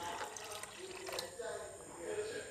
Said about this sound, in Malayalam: ഇനി ഇതിലേക്ക് ഞാൻ ചേർക്കുന്നത് 1 കപ്പ് വെള്ളം കൂടിയാണ്.